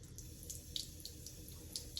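Water trickles steadily from a sink tap onto a fingertip while styling type 3C curly hair, a soft continuous running flow with faint drips, close and quiet.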